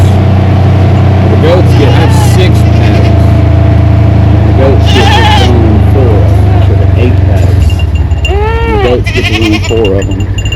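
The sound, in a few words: goats bleating on a farm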